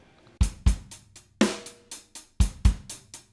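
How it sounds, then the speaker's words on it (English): A drum beat with the bass drum played twice alongside hi-hat strikes, heard as sharp, punchy hits in a repeating pattern of paired beats with short gaps between them, loud and close. "so we get 2 bass drums with the first 2 hi-hats like this."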